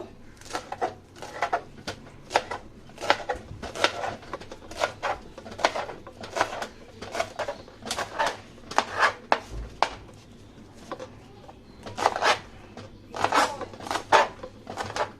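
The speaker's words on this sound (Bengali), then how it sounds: "বন্ধুরা, এই পর্যায়ে আমি শাকটাকে কুচি কুচি করে নিব।" Rapid knife chopping of jute leaves (pat shak) on a board, a dense run of sharp close taps in irregular bursts that continue throughout, with a low steady hum beneath.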